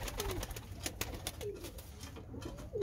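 A pigeon coos softly several times in short throaty phrases, close by, with some faint rustling and background noise.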